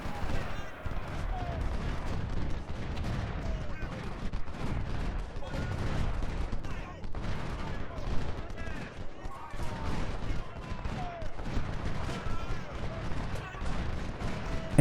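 Dense, continuous gunfire crackles through a Civil War battle in a strategy video game, with canister and musket volleys booming and rattling nonstop for the whole stretch, loud and busy throughout.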